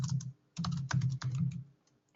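Clattering keystrokes on a computer keyboard come in quick bursts with short pauses between them, close and fairly quiet, with no one speaking.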